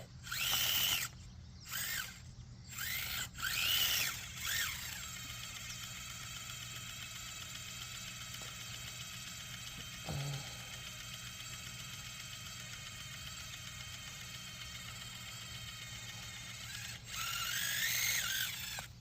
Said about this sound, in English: Sorry about all the wheel spin, just gotta warm up the rock or tires